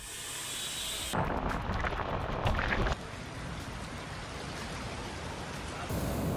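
Heavy monsoon rain pours steadily over the Alandi–Chakan area near Pune, a dense, even hiss that swells louder in stretches and fills the whole scene with no voices.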